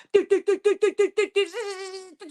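A voice imitates an MRI scanner: about eight rapid, evenly spaced buzzy pulses, then a sustained droning hum that wavers slightly before cutting off.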